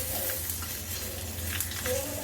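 Cumin seeds, curry leaves and four red chillies sizzle and crackle in hot oil for a sambar tempering, a steady close fry with soft stirring and no speech.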